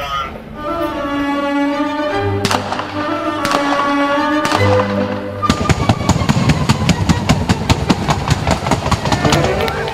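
Paint explosives fired on a film set for a Sony Bravia advert. Several sharp loud blasts are followed by a rapid, evenly spaced run of cracking bursts, heard over music and voices.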